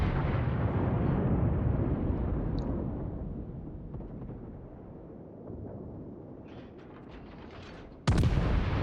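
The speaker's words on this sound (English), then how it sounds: "Fire off a couple more rounds towards his way." Naval guns fire in the World of Warships game, opening on a booming rumble that decays over several seconds, with a fresh sharp blast near the end.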